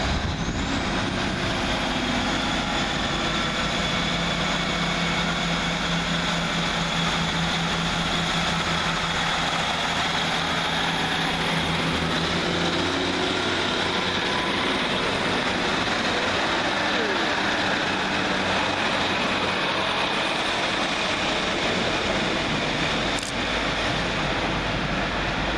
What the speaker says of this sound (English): We see the departure of 150, 145 and 150, 111 with the 1252 Northern Rail service from Manchester Piccadilly to Rosehill Marple.